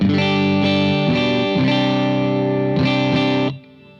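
Electric guitar chords through a warm Klon or Barbershop overdrive pedal, strummed a few times with sustained ringing, then cutting to quiet hum at the end.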